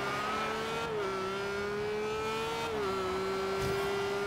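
Racing cars in Forza Horizon 2 pulling away from a late start, a steady engine drone that rises and shifts through gear changes, with other cars faintly around.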